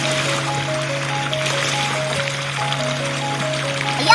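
Water from a CRI motor pump flows into a farm field, a steady trickle and gurgle over a constant mechanical hum.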